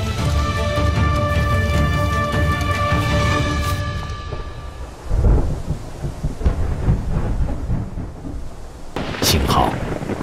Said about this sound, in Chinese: 幸好这天夜里雷电交加，大雨滂沱